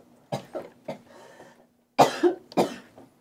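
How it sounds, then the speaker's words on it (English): A person coughs loudly and close by in several harsh bursts, a short cluster and then a second, heavier pair after a brief pause. "I have to cough, fucking and it's going to be very loud."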